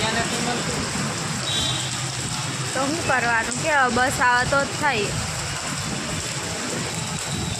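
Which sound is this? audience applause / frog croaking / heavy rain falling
heavy rain falling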